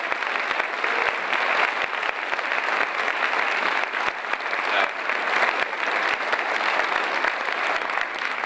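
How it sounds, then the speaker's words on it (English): A room full of people at a municipal mayoral election forum applauds the candidates, with dense, steady clapping that stays loud and even throughout. "Let's give them another round of applause."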